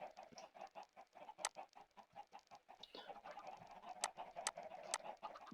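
Minecraft chickens cluck in repeated short bursts, faint and a little busy, with a few sharper clicking game sounds scattered between them and no talking.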